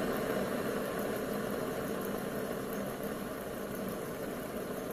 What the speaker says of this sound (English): This engine is running off propane.